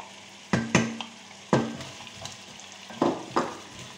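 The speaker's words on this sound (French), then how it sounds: "On remue." Duck with turnips, onions and garlic stirred in a pan: a few distinct scraping strokes of a utensil at irregular intervals over a soft steady sizzle, close and moderately loud, no talking.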